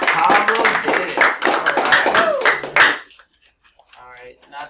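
Students in a classroom break into loud, quick applause that runs for about three seconds and then stops abruptly, followed by a few faint voices in the quiet room.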